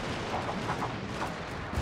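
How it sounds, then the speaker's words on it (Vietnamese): Massed gunners firing in the historical strategy game Fall of the Samurai, a dense, continuous rumble of overlapping musket and cannon-like reports with no clear gaps, steady and moderately loud throughout. "Rồi, lính súng đã bắt đầu bắn."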